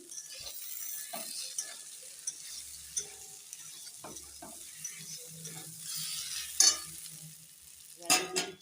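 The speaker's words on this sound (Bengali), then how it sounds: "আমি বারবার গরম জল দিয়ে মশলাটা কষে নিচ্ছি" Spice paste for a vegetarian jackfruit and cashew curry sizzles in a pan on a gas flame, worked with a spatula that gives irregular scraping knocks over a steady low hiss, fairly close and moderately loud.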